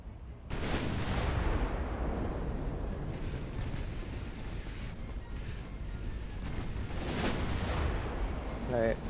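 Heavy naval artillery fire from an enemy ship in the naval warfare game Ultimate Admiral: Dreadnoughts, with a loud booming blast followed by a long rumbling roll and a second salvo later on.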